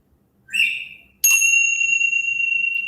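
A small safety bell is dinged twice at a comedy event, first a short bright ring that fades, then a sharper strike whose clear tone rings on steadily to the end.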